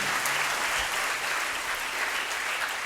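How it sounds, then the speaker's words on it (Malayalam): An audience claps steadily for a speaker at an interview event, a dense continuous applause of many hands lasting the whole stretch, close and even in loudness. "നല്ലൊരു കൈയടി കൊടുക്കാം"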